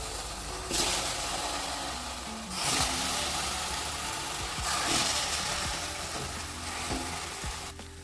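Pumpkin pieces hit a hot wok and fry with a loud, continuous sizzle, swelling in bursts as they are stirred or added, with no voices.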